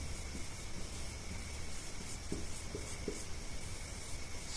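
A pen writing on paper while a maths problem is worked out, producing a steady faint scratchy rustle with a few small taps, quiet and close, with no voice.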